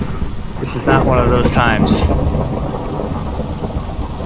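Thunder rumbles and steady rain pour down during a thunderstorm in the Minecraft video game, loud and continuous throughout, with a voice speaking briefly over it.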